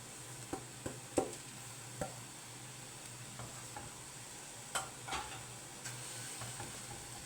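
Crab pieces are stirred with coriander, cumin, fish spices and salt in a frying pan, a faint steady sizzle broken by occasional scrapes and light clinks of the utensil.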